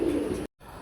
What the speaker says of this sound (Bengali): দর্শক শুরুতে দেখতে পাচ্ছেন এক পেয়ার ড্রাগন কবুতর